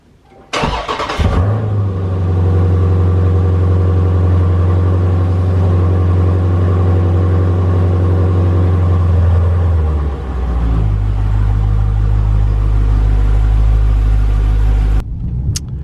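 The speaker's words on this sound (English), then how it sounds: "I took the car out on the road" A car with newly fitted fog lights is driven along a road at night, its engine rumbling steadily and loud from start to finish, with a deeper surge in the low end midway as it keeps moving.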